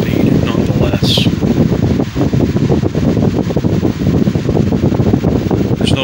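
A Patton 18-inch air circulator fan runs steadily on low speed, giving a continuous broadband whoosh of moving air. Someone talks over it throughout.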